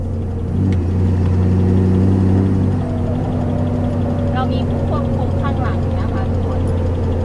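A six-wheel truck's engine runs loud and close, a deep steady drone that swells as the accelerator is pressed and then eases back, with a few faint squeaks on top.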